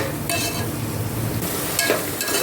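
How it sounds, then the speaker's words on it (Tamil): Onion, green chilli and ginger-garlic paste sauté for chicken biryani, a loud, steady close sizzle broken by a few scraping stirs of a spoon in the pan. "இப்போ என்ன பண்ணுறீங்க, வெங்காயம், பச்சை மிளகாய், இஞ்சி பூண்டு பேஸ்ட் நல்லா வதங்கிடுச்சு"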